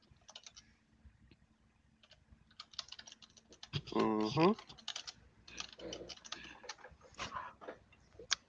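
Typing on a computer keyboard in a private chat: steady, close clicking keystrokes in uneven bursts, broken midway by a short hum from a voice.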